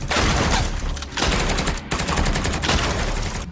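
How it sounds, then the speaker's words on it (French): Dense automatic MP5 bursts mixed with shotgun blasts in an action film shootout, loud and continuous with only brief dips between volleys. "Il y en a un qui canarde en automatique au MP5, l'autre qui est au fusil à pompe"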